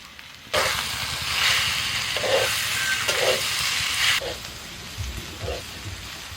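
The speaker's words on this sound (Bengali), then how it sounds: "এবার ডিমের শাক দিয়ে দিচ্ছি" Greens tipped into potatoes and spices frying in a pan, bursting into a loud, steady sizzle that drops back to a quieter hiss after a few seconds, with occasional stirring clinks, close up.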